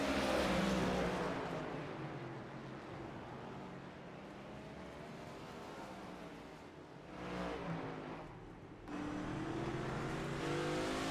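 Race cars on the Motegi East track in the iRacing simulator roar steadily at close range as engines drone down the front stretch, with swelling and fading passes and a brief surge near the end.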